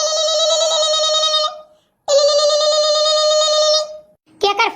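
A telephone rings loudly in two long electronic trilling bursts separated by a short pause, followed by a brief third burst cut off at the end.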